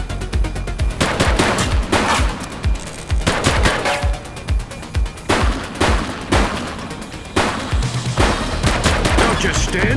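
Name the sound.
gunfire in a police video game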